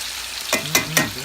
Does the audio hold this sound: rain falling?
no